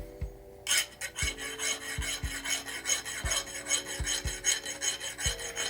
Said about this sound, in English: I'll take a little sandpaper on that one